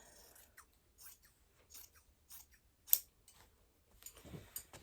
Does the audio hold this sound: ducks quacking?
no